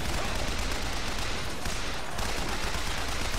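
Gunfire from Bioshock Infinite, as dense, continuous rapid shots in a loud, sustained burst lasting a few seconds, close and filling the whole stretch.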